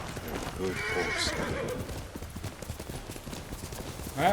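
A horse neighs loudly in the video game Ghost of Tsushima, followed by rhythmic hoofbeats clip-clopping at a gallop, with game-like ambience around them.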